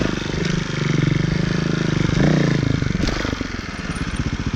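Beta Evo Factory 300 four-stroke trials motorcycle from 2018, its engine running close by with a steady throbbing chug, briefly revving harder midway before settling back to a loping idle-like pulse.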